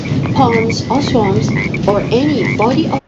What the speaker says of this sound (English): You can also hear the frogs croaking at the background